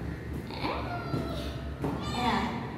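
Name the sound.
stray cat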